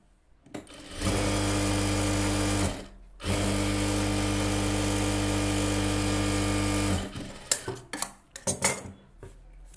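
A sewing machine stitching the back seam of a 40-inch blouse runs in two steady motorized bursts, close and loud, a short pause between them, then ends in a few uneven clicks and handling knocks.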